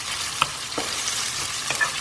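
Thinly sliced onions sautéing in a pan give a steady, soft frying hiss, broken by a few quiet clicks and scrapes of stirring, with no voices.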